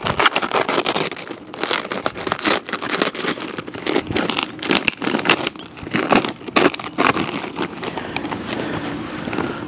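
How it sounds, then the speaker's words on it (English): A bag of multi-purpose playground sand is cut and torn open outdoors, with loud, close crinkling and rustling of the bag material and gritty shuffling that continues throughout, no voices. "cut our bag open."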